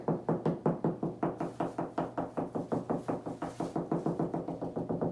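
Rapid knuckle knocks on a drywall ceiling while hunting for a stud sound as a steady series of close, dull taps, some hollow and some more solid, with no talk over them.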